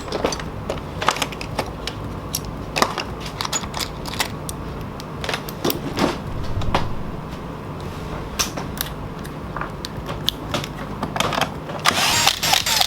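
A power tool buzzes and clicks in short bursts while backing out screws holding a factory speaker in a Nissan Frontier door, with scattered clacks and rattles of handling parts nearby.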